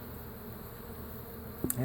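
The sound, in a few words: honeybees buzzing during hive removal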